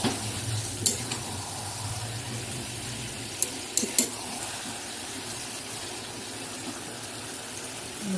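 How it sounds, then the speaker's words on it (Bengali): Masala with onion, garlic and tomato sizzles steadily in a pan while being stir-fried, a close continuous fry with a few sharp clicks of a utensil against the pan. "মশলা টশলা, পেঁয়াজ, রসুন সব, টমেটো সব দিয়ে এখন কষাচ্ছি।"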